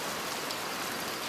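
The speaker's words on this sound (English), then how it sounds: "The rain is turning everything to mud." Steady rain pours in the game Pentiment, a dense, even hiss of drops falling on wet ground that turns everything to mud, continuous and close with no other sounds.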